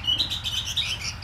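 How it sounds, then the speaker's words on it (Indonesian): Sooty-headed bulbul (ketilang) chirping close by, a quick series of bright repeated tweets over a low steady background hum, brief and clear with no talk. "Oh, burung ketilang."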